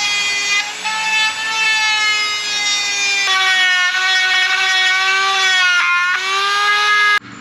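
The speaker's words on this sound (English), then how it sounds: "I'm gonna try to get my Dremel and grind off one of these links just so I could take the old chain off" A Dremel rotary tool whines steadily while grinding off a link of a Ninja ZX-6R motorcycle chain, a loud high-pitched tonal buzz that shifts pitch as the load changes and cuts off abruptly at the end.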